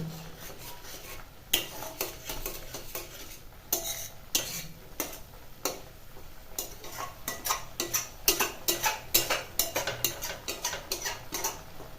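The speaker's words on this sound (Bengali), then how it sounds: "এভাবে আস্তে আস্তে মশলাটা কষাবো" Spices with turmeric being stirred and fried in a pan. A spatula scrapes and clinks against the metal again and again in an irregular rhythm over a soft sizzle.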